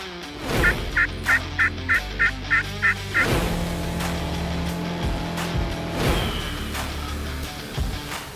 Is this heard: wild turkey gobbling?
yes